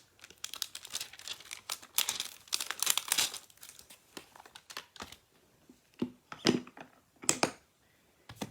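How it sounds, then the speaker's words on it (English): A flower stamp image is peeled off its plastic backing, giving close, crinkly crackles and short tearing rustles in irregular bursts, louder at first and then scattered, isolated handling sounds. "Just going to pull that off the plastic."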